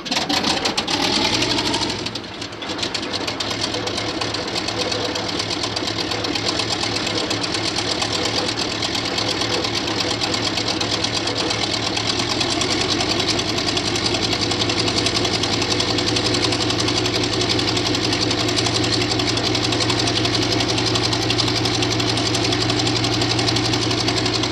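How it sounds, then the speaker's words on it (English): A Pegasus aircraft engine catches after a flywheel starter spins up and the clutch engages, then runs on as a loud, steady, rumbling drone with a rapid mechanical clatter for over twenty seconds. "The clutch is engaged and the Pegasus starts."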